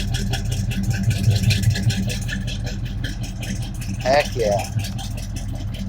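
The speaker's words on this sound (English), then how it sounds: "that 350's definitely got a cam, definitely got a choppy lobe to it" A cammed 350 V8 in a 1985 Chevy C10 pickup idles with a choppy, lumpy exhaust rhythm, loud and close, as a voice briefly calls out over it.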